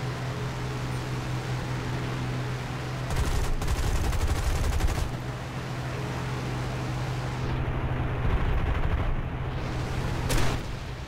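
Aircraft machine-gun fire from a tail gunner in War Thunder, a steady engine drone with bursts of rattling fire over it, loud and continuous.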